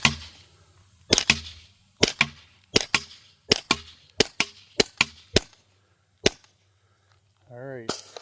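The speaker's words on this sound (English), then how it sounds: "All right, we got it loaded, and we're gonna take some shots." Saber paint marker firing heavy 7.3-gram kinetic rounds in a rapid series of about eleven sharp, loud cracking shots, each followed by a short decay, with a faint whirring sound near the end.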